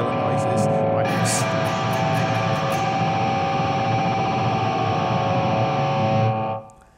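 A distorted electric guitar, a Framus Wolf Hoffmann WH-1, howls and swoops in pitch with tremolo-bar dive bombs, wobbling and diving, sustaining loudly before cutting off at the end.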